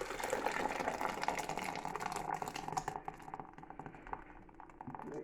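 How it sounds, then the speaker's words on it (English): Mushroom soup being poured into a jug for a two-litre batch, a steady close liquid splash and trickle that fades toward the end. "pour that in there."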